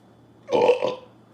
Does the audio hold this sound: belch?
yes